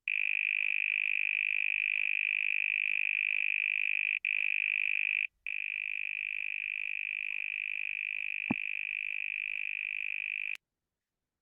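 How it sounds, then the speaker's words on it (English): Steady pure test tones for songbird hearing research, a constant electronic pitch held for several seconds, briefly broken twice, then stepping down in level before cutting off; one short click intrudes near the end. "basically it's a bunch of tones at a very specific frequency"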